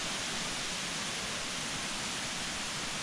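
Rushing water from a waterfall in woodland plantation, a steady broadband roar continuous throughout, heard from a distance through trees with no voices.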